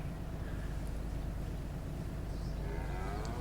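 Cattle lowing in Farming Simulator 22 on a herd of around 30 cattle, a low, steady moo-like drone over constant background noise, no speech.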